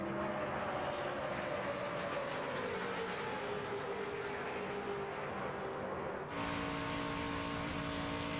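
NASCAR stock cars race on track during the 2010 DRIVE4COPD 300, their engines making a continuous loud roar that shifts in pitch as cars pass, with no voices.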